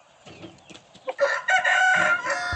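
A single loud crow from a Brahma and Ligor cross rooster rises and holds near the microphone, preceded by soft clucking and rustling.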